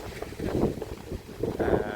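Strong wind gusts roar steadily across an open outdoor setting, buffeting the microphone with loud low rumbling surges that swell and ease over two seconds, with no talking.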